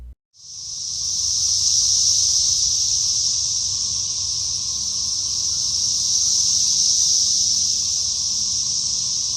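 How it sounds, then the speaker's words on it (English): A loud, continuous high-pitched buzzing drone of cicadas, steady and unbroken, close and dominating with no other sounds. "If you never heard of what a cicada sounds like before, allow me to introduce you to it."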